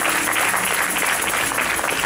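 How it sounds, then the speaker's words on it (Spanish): An audience in a church gathering applauds in a dense, continuous wash of clapping that stays loud and even throughout. "¿Alguien que le dé un aplauso a este muchacho?"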